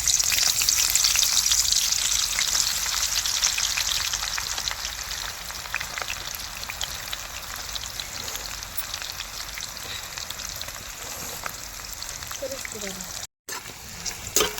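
Onions frying in oil on a wood-fired chulha stove while making chicken dum biryani, a steady, dense sizzle and crackle running throughout, with occasional stirring and a brief pause near the end.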